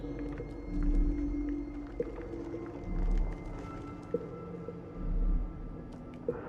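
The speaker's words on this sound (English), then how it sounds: "There are whales down in the mines. I hear them howling to one another." Whales deep in the mines of the game Dishonored 2 howl to one another in long, low, distant calls that swell and fade in slow waves about every two seconds, with faint clanks between.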